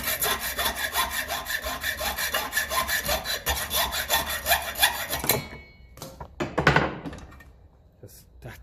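A saw cuts through a battery cable clamp on a 1954 Ferguson 20 TEF diesel tractor in steady, rapid back-and-forth strokes for about five seconds, then stops and is followed by a few clunks and handling knocks.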